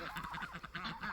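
Domestic ducks and turkeys in a farmyard give a rapid run of honking, quacking calls, close by and fairly faint, with short pulses repeating throughout.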